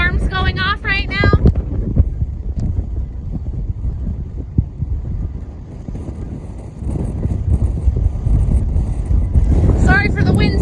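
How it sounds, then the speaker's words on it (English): Strong, tornado-like wind buffets the microphone on an accessible verandah of the Disney Wish cruise ship, a loud, rumbling roar throughout, with brief talk at the start and end. "Sorry for the wind sounds."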